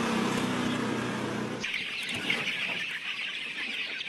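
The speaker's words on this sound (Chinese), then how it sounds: "饲养员要把育成鸡从笼子里抓出来，转移到平地饲养的鸡舍里" Growing San Gao green-legged yellow chickens cluck and squawk while being caught from cages and moved into a floor-rearing house at night, a dense, close flock chorus that turns thinner and more scattered after a sudden drop in background noise.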